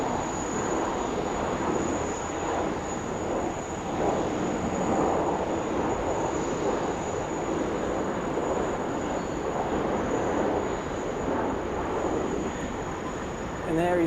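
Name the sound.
Qantas Boeing 737 arriving at Sydney Airport, runway 16 right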